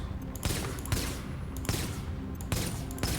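Gunfire in the video game Tom Clancy's The Division: a series of sharp, loud shots in uneven bursts, several cracks in quick succession over a dense, noisy firefight backdrop.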